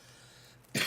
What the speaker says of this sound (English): that was a really bad sounding cough